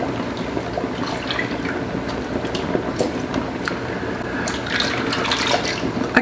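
A milk and cream mixture is poured into a pan, giving a continuous close, liquid trickling and splashing that runs steadily for several seconds without a break, with no talking.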